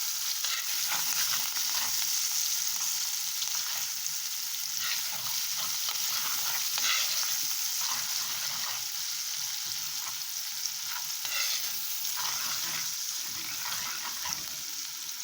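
Curry powder frying and being stirred in a pot while cooking Jamaican curried lamb, a steady close sizzle with scraping spoon strokes throughout, no talking.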